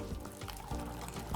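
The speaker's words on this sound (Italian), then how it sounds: "perfetto, mettiamo le trofie." Dry trofie pasta tipped into a pot of boiling water, a faint liquid splash and bubbling burble, soft and close.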